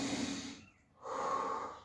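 A deep breath drawn in and then let out, close and fairly loud, a rushing inhale followed by a short pause and a longer exhale.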